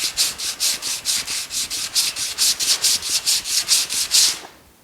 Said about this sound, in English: And just sand it.